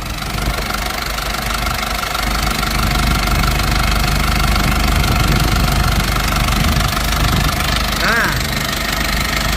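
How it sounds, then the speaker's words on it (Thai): A diesel engine in an Isuzu TFR pickup converted with a Dragon engine idles with a steady, rough knocking rumble, close and continuous throughout. "ผมก็ สตาร์ท เครื่องเรียบร้อยแล้วนะครับ"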